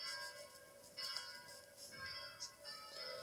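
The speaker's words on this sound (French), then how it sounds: "Candide, les cloches se lancent violemment." Church bells of Saint-Pierre-aux-Liens ringing the angelus, heard at a distance as overlapping sustained tones with a few struck peals rising above the faint outdoor hum.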